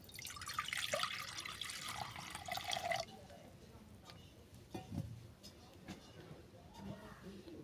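Water poured into a cooking pan while making a Bengali katla fish and young jackfruit curry: a close, bright splashing gush for about three seconds, then quiet drips and light clinks.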